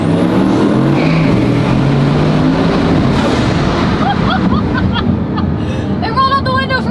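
A Bugatti Chiron accelerates through a tunnel: a loud, reverberant engine roar with a rising high whine fills the enclosed space, while people talk over it and brief chirps sound near the end.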